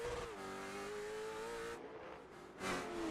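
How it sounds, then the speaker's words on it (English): A late model stock car engine revs hard at a Stafford short-track race, a loud sustained high-RPM drone holding steady, dipping briefly, then surging again toward the end, heard at a distance without voices. "somebody is revving their car up just like max RPM right now"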